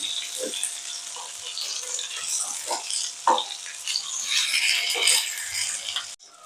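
Fish pieces frying in shallow oil on a pan, a loud crackling sizzle with several soft, low thumps as the pieces are flipped, ending in a brief cut-off.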